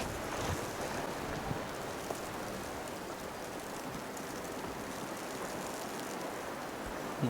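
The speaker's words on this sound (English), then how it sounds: "it's like snowing hard, but it's also windy" Strong wind during a heavy March 2021 blizzard, a steady broadband rush outdoors that holds throughout with small gusting swells and no talking.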